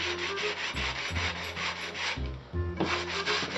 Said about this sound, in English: Make sure to constantly be wetting your either sandpaper or sanding block, whichever one you decide you're using.